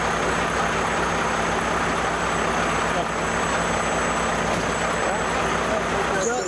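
A diesel engine keeps running at an outdoor Wreaths Across America veterans event in Brattleboro, giving a steady, rumbling drone throughout with faint voices mixed in.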